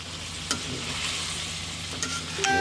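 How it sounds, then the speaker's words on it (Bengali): Chicken curry with garam masala being stirred in a pan: a constant soft sizzle with a few sharp spatula knocks and scrapes against the metal, fairly quiet and close, no voices. "এখন একটু নেড়ে ছেড়ে দিব"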